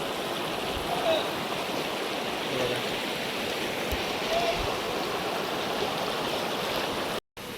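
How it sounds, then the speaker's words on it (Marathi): A clear river flows near a farmhouse with a steady, close rushing wash of water, broken briefly near the end. "बघा माझ्या मागे तुम्ही बघू शकता, खूप सुंदर अशी नदी आहे आणि स्वच्छ"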